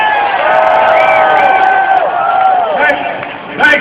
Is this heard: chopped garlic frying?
no